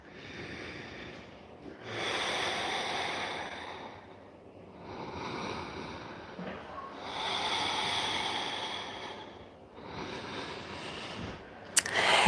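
Slow, deep yoga breaths, three long inhale-exhale cycles in a quiet room, each breath drawn out for a couple of seconds, close and soft with a brief click near the end.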